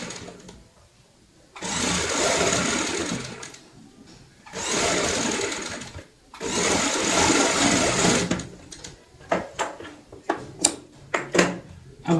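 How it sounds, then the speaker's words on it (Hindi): A sewing machine stitches baby cap fabric pieces in three sustained whirring runs separated by short pauses, followed by a series of quick, choppy bursts near the end. "ऊपर से सिलाई लगाएंगे"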